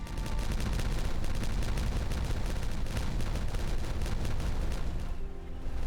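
Detonation in the game Timberborn: a dense, loud burst of rapid crackling blasts and rumbling booms rolling continuously for several seconds before cutting off.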